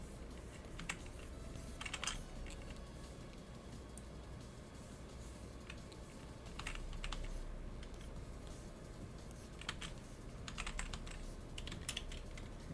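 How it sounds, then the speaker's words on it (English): Computer keyboard typing during a live animation session, steady quiet clatter of keys with bursts of quicker strokes, continuous throughout with no talk. "My keyboard. It just helps me move a little faster."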